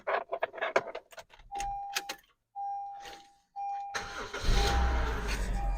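A car engine cranks and catches after a new belt has been fitted at home, with a warning chime sounding in between, then settles into a steady close idle.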